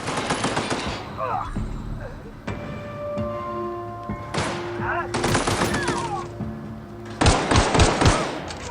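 Rapid gunfire bursts from the video game The Outer Worlds, loud and close, with clipped automatic volleys separated by short pauses and game effects between them.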